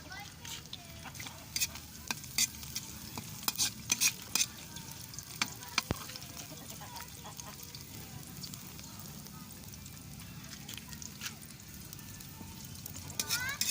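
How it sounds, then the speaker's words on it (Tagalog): Onion and garlic sauté over a wood-fired stove, giving a faint, steady sizzle broken by sharp clicks and utensil taps, with soft voices murmuring in the background. "igisa po muna natin ang sibuyas at ang bawang"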